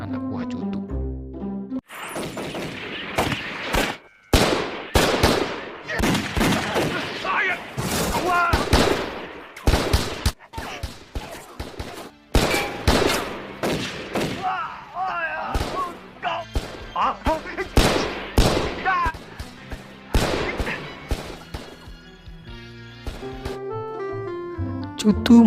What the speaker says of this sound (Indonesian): Dan akhirnya terjadilah baku tembak antara para polisi dengan anak buah Cutu.